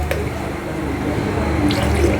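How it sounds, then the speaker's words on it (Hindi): Water poured into a pot of achar gosht chicken curry, a short steady trickle and light splashing, fairly close and continuous for a couple of seconds with no talking. "बस इतना ही पानी इसमें शामिल करेंगे"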